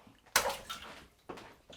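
A LAFALA remote-control toy dolphin is dropped into water, giving a sudden splash followed by smaller sloshing and a second lighter splash, close and fairly quiet.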